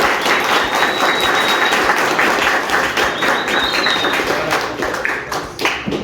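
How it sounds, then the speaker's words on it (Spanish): An audience applauds to welcome a guest, a dense, sustained round of clapping with a few faint whistles rising above it, easing slightly toward the end. "Un aplauso, por favor."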